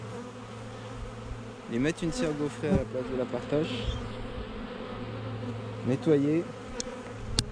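Honey bees hum steadily around an open hive during a spring inspection, while a beekeeper talks over them and frames are handled.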